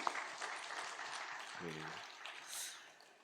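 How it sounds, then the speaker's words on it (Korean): A church congregation applauds the choir after a Korean afternoon worship service, with soft, fairly distant clapping that continues at a steady level, then tapers slightly at the end. "우리 다시 한번 박수로 격려하겠습니다"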